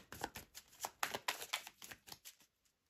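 Tarot cards riffled and shuffled in the hands before one is drawn, a close, quiet run of crisp papery flicks and slaps that taper off into silence.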